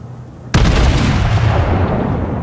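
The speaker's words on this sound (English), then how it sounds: "I'm gonna start firing at him. My front guns are ready." A warship's front guns fire in a naval video game: one sudden, very loud boom that rolls into a long, heavy rumble filling the rest of the moment.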